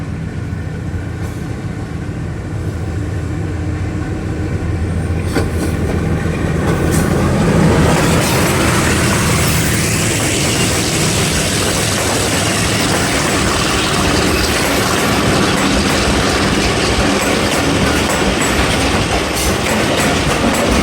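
The Thal Express, led by locomotive HBU 28062 with the throttle notched up, rumbles along with a steady loud roar of engine and rolling wheels, clattering rail joints rising in intensity, with no talk.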